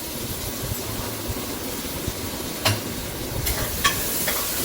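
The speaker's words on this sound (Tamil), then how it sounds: "ஆனியன் சேர்த்துக்கலாம். இது கொஞ்சம் நல்லா வதங்கட்டும்." Onions sauté in a pan for mutton curry with a steady close sizzle, a couple of brief scraping stirs cutting through.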